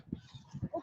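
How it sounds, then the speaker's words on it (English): A quick series of honking, quacking calls from ducks at Buckingham Palace, a few short bursts in under a second, moderately close. "Oh, can you hear the ducks?"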